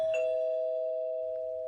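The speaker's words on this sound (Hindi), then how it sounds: "10 मिनट के बाद जब डोरबेल बजी" A doorbell chime rings once near the start, and its clear tone holds and slowly fades for over a second in an otherwise quiet room.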